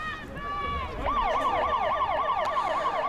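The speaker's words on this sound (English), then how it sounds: "You may be able to hear these sirens that keep going off in the background." Wailing electronic sirens blare from a scoreboard at a high school varsity football stadium, rising and falling in a fast repeating sweep, loud and continuous after a brief softer tone at the start.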